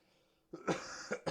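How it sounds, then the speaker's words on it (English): After a quiet moment, a person coughs several times in close succession, harsh and close, the bursts spaced unevenly. "I'm going to be coughing a lot during the stream"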